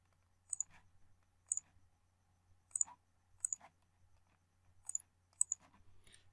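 A computer mouse clicks while someone works in CYPECAD structural design software, giving six crisp, close double clicks spaced about a second apart, with faint low hum and silence between them.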